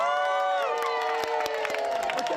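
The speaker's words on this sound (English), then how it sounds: "large crowds turned out in Shirley Park in Birmingham's suburbs to see the Queen's Baton Relay pass" Large outdoor crowd in Shirley Park, Birmingham, cheering the passing Queen's Baton Relay, with sustained shouts, whoops and children's voices overlapping alongside scattered clapping.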